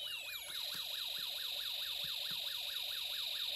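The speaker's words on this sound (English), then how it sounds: "you hear a police car siren combined with the happy birthday song" An electronic police siren from a Snap Circuits Extreme SC-750 electronics kit wails, rising and falling rapidly and steadily, with a high-pitched tone held above it, no talking.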